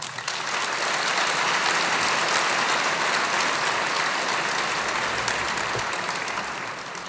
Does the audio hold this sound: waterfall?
no